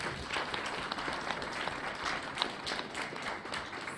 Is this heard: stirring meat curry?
no